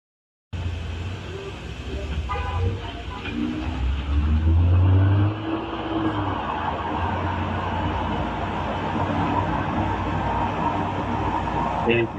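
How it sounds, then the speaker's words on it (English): A BMW X6 engine rumbles steadily with a low, sustained drone that swells briefly, heard under a voice talking over it. "can you hear that engine?"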